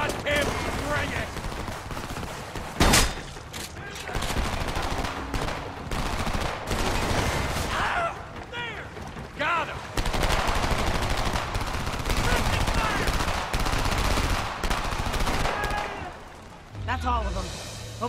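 Heavy, sustained gunfire in Homefront combat, rapid automatic bursts and shots layered thick and loud throughout, with voices shouting over the din.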